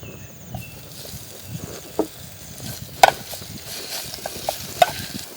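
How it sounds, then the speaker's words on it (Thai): Thai curry paste for a western-style jungle curry with fingerroot is stir-fried in two tablespoons of oil, a soft crackling sizzle with scattered scrapes and clinks of the spatula against the pan. "น้ำมันสองช้อน สองช้อนโต๊ะนะคะ แกงลงไปผัดค่ะ"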